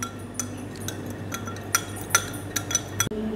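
A spoon stirs sauce with sugar in a bowl, light metallic clinks and taps at an irregular pace, close and fairly quiet over a steady low hum, with no talking.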